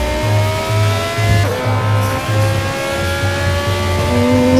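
A sports car's engine hums steadily with pulsing tones and a sudden pitch drop midway while driving in Gangster Vegas, loud and close with no talk.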